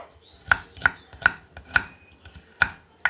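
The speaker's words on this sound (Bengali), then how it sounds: "পরে পেঁয়াজটা দেখুন এইভাবে আমি একটু বড় বড় করে কেটে নেব।" A knife chops an onion into large pieces on a board, making six sharp, evenly spaced chops close up with quiet pauses between them.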